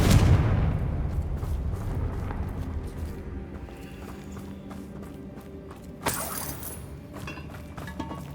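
A Confringo spell explosion in the Hogwarts Legacy video game, a deep booming blast at the start that rumbles and decays, followed by quieter game ambience and a brief crackling burst later.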